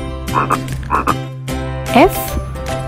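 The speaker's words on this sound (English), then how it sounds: "F for frog." A frog croaks in a string of loud, close, throaty calls, several pulsing croaks spaced across the moment, with a brief higher chirp near the end.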